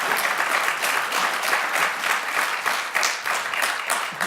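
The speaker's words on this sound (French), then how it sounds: "Applause for Marlon Brando." An audience at a film festival press conference in Deauville in 2017 claps for several seconds in loud, sustained, even applause with no speech over it.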